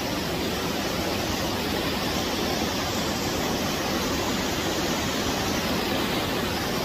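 Rushing water from the Cascada waterfall at La Ceja pours in a steady, dense roar that stays loud and unbroken throughout, with no voices over it.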